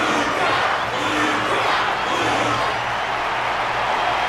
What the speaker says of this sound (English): The audience's passion stays strong. Their constant applause is a salute to this resilient Belabogian fighter.